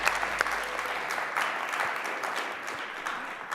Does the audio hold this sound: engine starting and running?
no